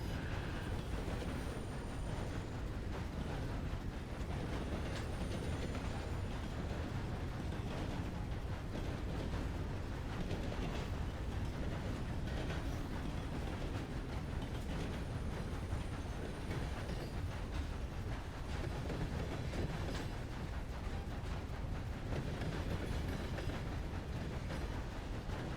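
A video game train in a Red Dead roleplay rolls steadily along the rails, a dense continuous rumble and clatter that holds at an even level throughout, with no voices over it.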